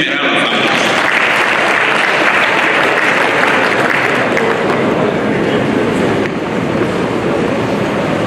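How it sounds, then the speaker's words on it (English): A large audience at a convocation lecture claps in a long, loud, sustained round of applause that stays dense and even throughout, with a slight dip just before the end. "And please, I'd like us to give him a round of applause."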